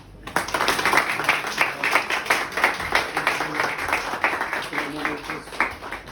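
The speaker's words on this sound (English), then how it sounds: "I'm sure you will all join with me for a round of applause." An audience at an engineering and technology conference claps in a sustained round of applause, dense overlapping hand claps close and steady for several seconds in a hall.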